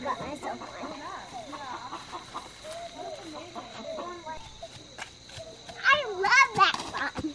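A hen clucks and chatters on a homestead farm among voices, including a child's, with soft clucks early and a louder burst of squawking calls toward the end.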